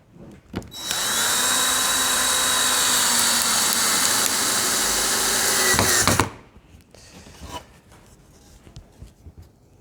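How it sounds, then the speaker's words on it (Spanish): A power screwdriver drives a screw into a wooden board near its edge, whirring loud and steady for about five seconds before stopping abruptly, followed by faint handling noises. "Imaginaros que yo tengo que atornillar esta tabla para unirla con otra"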